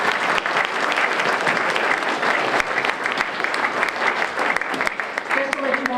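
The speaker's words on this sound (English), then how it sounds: "Let's give him a big round of applause." Audience applause at a Veterans Day ceremony, a sustained burst of many people clapping with some voices and cheering mixed in underneath.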